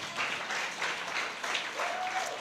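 A church congregation applauds during a Sunday worship service, with steady dense clapping from many hands sustained at moderate loudness, a faint tone briefly rising above it near the end.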